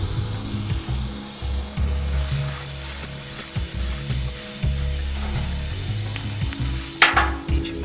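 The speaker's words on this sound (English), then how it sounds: "Heat your rod up. Stick your rod down in the crack. Work back and forth across it with your torch" Welding torch heating a welding rod over a crack in a car body panel, a steady close hiss and sizzle with faint scraping, ending in a brief sharp burst.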